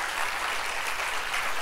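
An audience applauding for a generous young lady at a conference talk, a dense, sustained wash of clapping heard alone.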